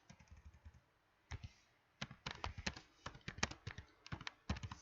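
Java code being typed on a computer keyboard: quiet, close key clicks in uneven bursts, a short run, a pause, then faster clustered tapping.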